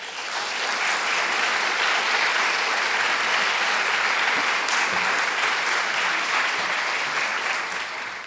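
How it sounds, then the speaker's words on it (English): Sustained audience applause at a university State of the University address fills the whole stretch, a dense, even wash of clapping from a large crowd. "I love that I can get applause with the budget."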